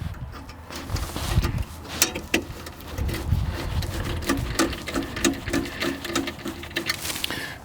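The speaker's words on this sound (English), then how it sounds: "we'll go ahead and install the rest of the screws" Screws being driven into a chrome headlight bezel on a C4 Corvette during an LED headlight upgrade, a dense run of quick close clicks and short whirring bursts with light rattling handling noise throughout, no talking.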